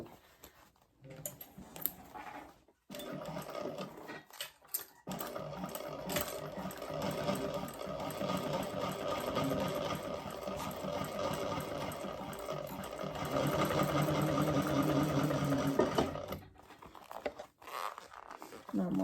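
A sewing machine stitches a bag seam in a steady, close whirring run with brief stops and restarts, the motor rising slightly in pitch toward the end before it halts.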